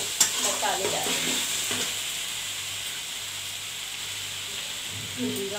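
Onion and tomato frying in a pan for an aloo capsicum dry curry, a steady soft sizzle and hiss with occasional stirring scrapes, fairly quiet and continuous throughout.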